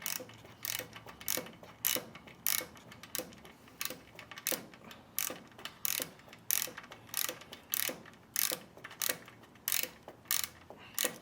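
Exhaust clamps on a 2022 KTM Duke 890R are tightened with a ratchet, which gives a close, regular series of sharp clicking strokes with short pauses between them; no one speaks.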